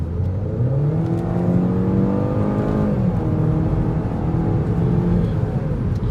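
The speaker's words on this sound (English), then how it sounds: "I'm going to stay quiet here for a second while I accelerate so you can hear." A 2013 Mini Cooper S Coupe accelerates from inside the cabin, its engine note rising steadily through the revs with a loud, close whirring drone, easing briefly before climbing again.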